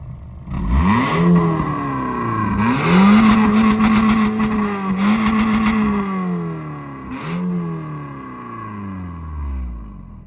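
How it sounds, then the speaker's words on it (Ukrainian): A Mazda 3's engine revs repeatedly through a loud aftermarket sports exhaust, rising and falling in several strong bursts before settling back to a throaty idle. "А зараз ви почуєте мега дорогий багатий спортивний вихлоп."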